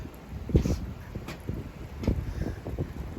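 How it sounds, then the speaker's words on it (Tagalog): Low gusts of wind blow in uneven puffs, buffeting close by, with soft rustling between gusts. "Biglang kumambya yung ihip ng hangin bumalik."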